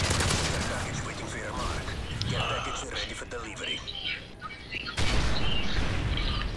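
A shotgun fires repeatedly in the video game Modern Warfare 3, with loud blasts and bursts of other gunfire in a busy firefight as a player talks over the action.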